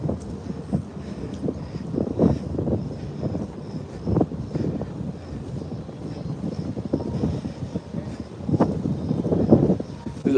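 Steady low wind buffeting on the open deck of the P&O Britannia cruise ship on a sea day, a constant rumbling roar with gusty swells and no talking.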